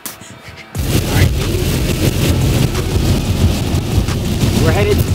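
Heavy rain drumming on a vehicle while driving the Million Dollar Highway in Colorado, a dense, loud, continuous roar that begins abruptly after a brief quiet moment and persists with wind buffeting.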